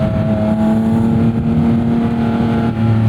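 Porsche 718 Spyder's naturally aspirated engine pulls hard from inside the car, a loud, steady rising drone with a clear tonal whine building over a few seconds.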